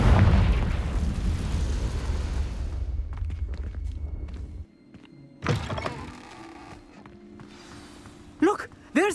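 In Hogwarts Legacy, a Confringo spell hits with a loud, heavy blast that rumbles and decays over several seconds, followed by quieter thuds and debris clatter as voices speak.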